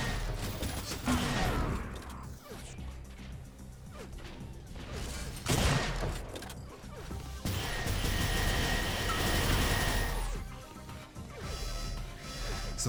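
Gunfire in the Unreal Tournament arena shooter during a competitive league match: rapid bursts of weapon fire, crashes and mechanical clatter in near-continuous dense action, with a voice speaking faintly underneath.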